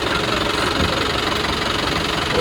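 A safari bus sits with its engine idling at a forest reserve, a steady loud rumbling drone that holds even throughout with no voices over it.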